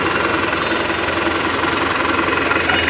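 Turbo diesel engine of a Mitsubishi Canter Euro 4 truck running at raised revs, a loud, steady, dense roar with rough knocking texture and faint turbo hiss, close up and without talk.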